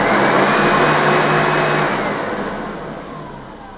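A vintage Hoover Turbopower 3200 upright vacuum cleaner hums loudly with a steady bearing whine, then winds down as it is switched off and the motor slows.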